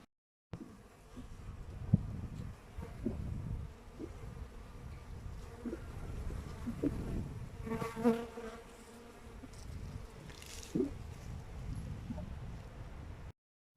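Honeybees flying around wooden hives and log hives on a January day, a steady, dense buzzing swarm close by with individual bees passing near, continuous throughout with no talking.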